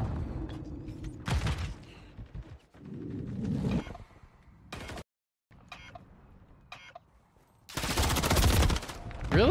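Bursts of rapid automatic gunfire and mechanical clatter in a ranked multiplayer shooter game, several loud volleys separated by quieter gaps with weapon handling noises.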